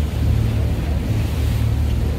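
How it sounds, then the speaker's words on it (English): A boat cruising on the Bosphorus at sunset gives a steady low engine rumble with wind and water noise washing over it, continuous and fairly loud. "This is the Bosphorus cruise, the Bosphorus River actually, at sunset."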